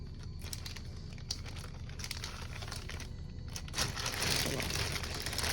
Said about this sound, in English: Sorry for all the loudness, or all the rustling of the bags.